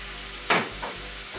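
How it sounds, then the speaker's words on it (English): Wine poured into a hot pan while cooking chicken pizzaiola hits with a sudden loud sizzling burst, then fades and flares again briefly over steady pan hiss. "Let's put a little wine in here. I don't think I'm going to measure this. Just a little deglaze."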